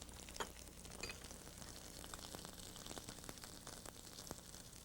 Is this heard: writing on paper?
no